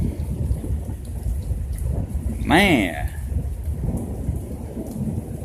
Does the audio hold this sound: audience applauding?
no